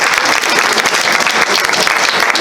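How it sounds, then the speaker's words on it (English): Audience at a historical society quilt program applauds, giving dense, sustained clapping from a nearby crowd that stays loud and even throughout. "Let's give her a round of applause for her."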